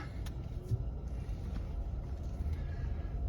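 A car pulling away in one-pedal driving mode, a low, faint, steady rumble of the vehicle moving off with little variation.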